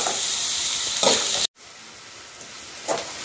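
Chayote pieces sautéing in a hot pan for mixed vegetable chutney: a dense, close, bright sizzle with soft stirring scrapes, broken by a brief silent cut before the frying resumes.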